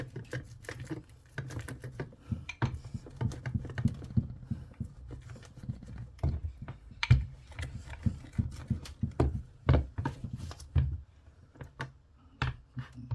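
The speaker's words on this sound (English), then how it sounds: "You can hear the cutting sound. Cut this side." A table tennis rubber cutter is rolled with light pressure along a rubber sheet, trimming it. Irregular soft clicks and scratchy ticks run over a low rumble, close and fairly quiet, with no talking.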